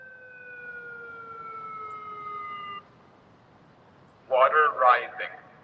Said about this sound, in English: I know y'all hear that siren.